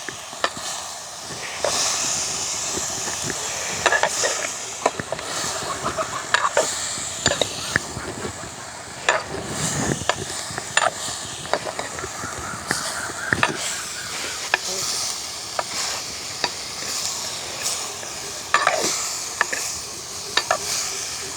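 Onions and curry leaves frying for a Sri Lankan village-style otti fish curry, with steady sizzling and repeated scraping strokes of a spoon stirring the pan, close and fairly loud, with a little background voice at times.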